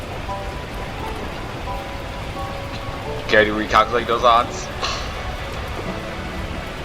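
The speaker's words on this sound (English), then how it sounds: "At that moment, the heavens opened up, unleashing torrential rain." Torrential rain pours in the video game Beacon Pines, a steady hiss of rainfall that fills the background while a voice speaks briefly in the middle.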